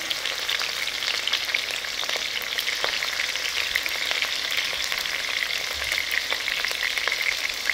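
Onions and green chilies sizzle steadily in hot oil in a pan, a dense, continuous crackle with small pops throughout, close and fairly loud, no voices.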